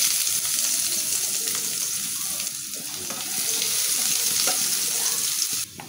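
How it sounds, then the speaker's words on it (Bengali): Onion sizzling in hot oil left from frying fish, a steady close crackle and hiss running through the whole stretch with small stirring clicks, then dropping briefly near the end. "আমি ওই তেলেই আমি একটু পেঁয়াজ দিয়ে দেব।"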